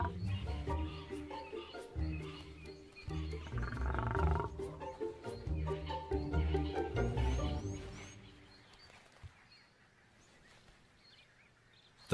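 Wild lions at a kill, including a lioness in estrus, roaring loudly and repeatedly in deep, rumbling bursts that fill the first two-thirds before dying away to quiet outdoor ambience.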